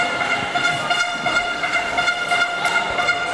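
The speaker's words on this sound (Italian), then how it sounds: "la trombetta che sentite in sottofondo" A fan's horn sounds at an under-23 national finals hockey match in Valdagno after a goal, a loud, sustained and steady blare that continues throughout over arena noise.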